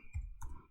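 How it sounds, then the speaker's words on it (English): A single keyboard key is pressed, giving two soft, close clicks in under a second against a quiet background. "So we type that in and press enter"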